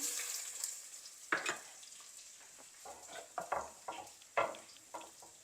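Whole spices sauté in a pot with ginger garlic paste for a simple vegetable biryani. Soft, quiet sizzling sits under a run of scraping stirs and spoon strokes in uneven bursts.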